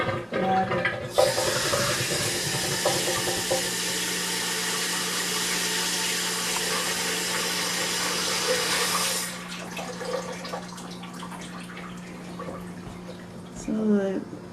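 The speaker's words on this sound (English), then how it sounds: "I'm going to put a little more cold water here." Cold water runs steadily into a container during homemade soap making, a continuous close hiss for several seconds that then cuts off, followed by quieter clinks and soft handling sounds with brief talk at the end.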